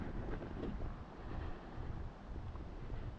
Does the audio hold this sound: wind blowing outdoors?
yes